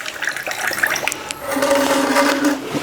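Water poured from a small pot into a glass tumbler makes a splashing, gurgling fill that steadies into a continuous, rising pour over the second half, close by and without speech.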